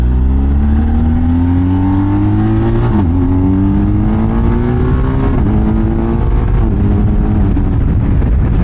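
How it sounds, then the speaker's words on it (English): A motorcycle accelerates hard, its engine note climbing through several gears with brief dips at each shift, loud and close over heavy wind rumble. "Motorcycles are so fun."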